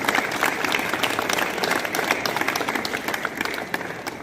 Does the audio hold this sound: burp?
no